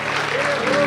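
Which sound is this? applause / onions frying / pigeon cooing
applause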